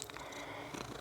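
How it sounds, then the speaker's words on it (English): A house cat purring close by, a soft rough rumble that pulses steadily and stays quiet and low throughout. "excuse the cat"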